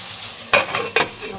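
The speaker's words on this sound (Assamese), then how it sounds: "এইখিনি মাংস পূৰা ভাজ খাইছে" Goat meat is stirred and fried in a pan, with two sharp scraping strokes over a low sizzle, close and fairly loud, with no voices.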